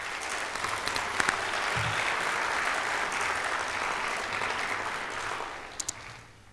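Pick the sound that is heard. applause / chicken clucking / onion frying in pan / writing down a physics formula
applause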